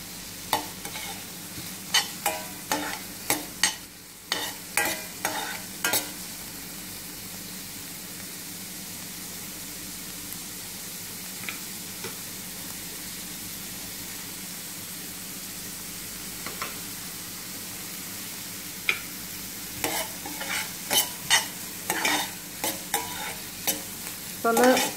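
Onions sautéing in sunflower oil in a pan, a steady close sizzle with clusters of scraping stirs near the start and again toward the end, no talking.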